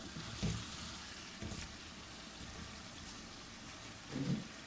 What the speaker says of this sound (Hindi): अब इसके अंदर हम थोड़ा सा पानी डाल लेते हैं।